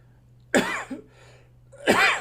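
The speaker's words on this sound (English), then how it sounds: "Sorry for coughing." Two sharp coughs from one person close by, separated by a brief quiet pause, with a faint steady hum in the background.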